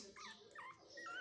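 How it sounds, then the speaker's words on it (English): Tiny newborn Yorkshire terrier puppies whimper in a few soft, high, wavering cries, close and quiet, with no talking over them. "two baby male and two baby female puppy Yorkies?"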